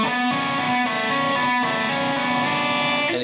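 Distorted electric guitar plays a riff, a dense sustained wall of chugging notes with regular accented picks, loud and close, with no talking.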